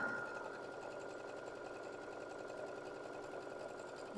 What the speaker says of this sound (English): we're going to sew that down at a 1/4 inch seam on the other side